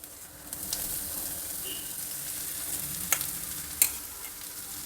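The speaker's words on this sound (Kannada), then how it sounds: "ಈರುಳ್ಳಿ ಮೆಣಸಿನ್ಕಾಯಿ ಎಲ್ಲ ಚೆನ್ನಾಗಿ ಫ್ರೈ ಆಗಿದೆ ಈಗ ಬೇಯಿಸಿಟ್ಕೊಂಡಿರೋ ಈ ಕಾಳನ್ನು ಹಾಕೋಣ" Onion, green chili and curry leaves frying in a pan for a horse gram saaru give a soft, steady sizzle with a few sharp stirring clicks near the end. No one speaks.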